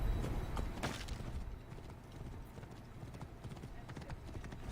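A horse galloping in an Assassin's Creed game, its hooves clip-clopping in a steady fast rhythm over continuous game ambience, with no talk.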